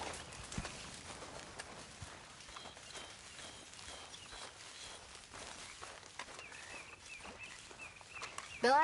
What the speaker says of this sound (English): I'd ought to keep them horses from ending up in Pearson's stew pot